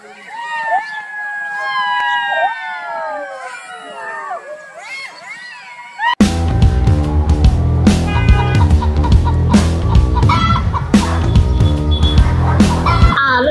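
Chickens at a chicken farm in an animated story: a run of high rising and falling squawks and clucks, followed by a loud burst of dense music and clatter.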